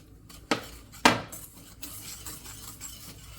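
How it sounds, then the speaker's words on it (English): Eggs are mixed in a saucepan with a utensil, giving two sharp metallic clanks against the pan early on, then quieter scraping and tapping that fades into soft handling noise. "And then you just mix this together."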